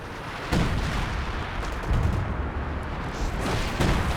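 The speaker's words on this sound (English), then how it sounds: "Barton here retaliates with a concentrated barrage" Concentrated artillery barrage in Company of Heroes 2, a World Championship match on the Longoskaya map: a dense, continuous roll of booming explosions and gunfire, loud throughout, with heavier blasts hitting near the start, middle and end.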